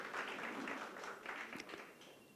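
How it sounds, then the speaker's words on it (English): A short burst of audience applause at a Sita Navami quiz gathering, fairly faint and diffuse, steady clapping that fades slightly toward the end. "One round of applause to them also."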